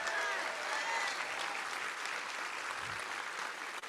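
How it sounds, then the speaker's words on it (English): Standing-room-only crowd at a congressional town hall in California breaks into steady, full applause for several seconds, with a few whoops and voices mixed into the clapping. "Round of applause."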